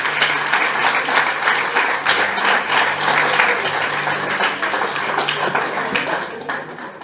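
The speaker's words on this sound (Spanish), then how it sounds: "Denle un aplauso para él." A church congregation breaks into sustained applause during a Spanish-language sermon, a full, even roar of many hands clapping at once that fades slightly toward the end.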